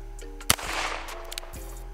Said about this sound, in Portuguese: Primeiro eu vou dar uns disparos